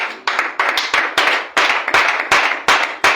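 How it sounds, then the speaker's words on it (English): A church congregation claps rhythmically during a Sunday service, loud and close, with steady overlapping hand claps in a repeating beat and no talking. "Are you clapping for Jesus Christ this morning?"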